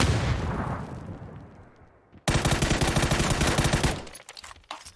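Gunfire in a video game shootout, dense rapid bursts of shots that fade out, then a sudden loud volley of repeated blasts before cutting off, with no talking.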